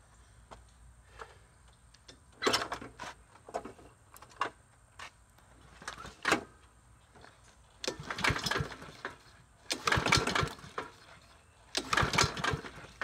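A cheap Troy-Bilt push lawn mower with a bent blade runs in uneven bursts, its small engine sputtering and ticking close by, swelling louder toward the end with shaking rattles.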